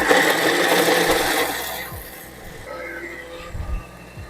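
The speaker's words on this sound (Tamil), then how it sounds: "மசாலாவை ஜாரில் போட்டு அரைச்சி எடுத்துடலாம்" A mixer grinder runs with a steady, loud whirring grind as masala is ground into a paste in its jar, then cuts off and leaves quieter scattered knocks and a low hum.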